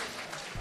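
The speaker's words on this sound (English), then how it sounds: "Give yourself a round of applause." A brief burst of crowd applause at an oratorical contest, a dense wash of clapping over less than a second.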